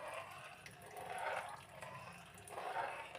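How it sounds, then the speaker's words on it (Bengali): Cornflour mixed in water trickling slowly into simmering chicken soup on a lowered gas flame, a soft liquid pour rising and falling in two gentle swells, no voices. "এবার আস্তে আস্তে কর্নফ্লাওয়ারটা দিচ্ছি"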